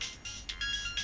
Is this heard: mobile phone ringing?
yes